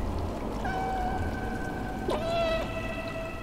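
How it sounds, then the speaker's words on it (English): A cat meows in the video game Stray, giving two drawn-out tonal meows over a steady background hum, the second one echoing slightly. No one talks. "Is that just our meow echoing?"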